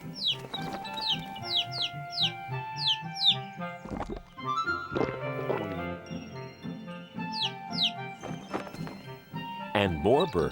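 Cartoon birds and chickens in a children's Bible story about the creation chirp in quick descending calls and cluck repeatedly over light musical accompaniment, with a short rustling clatter near the end.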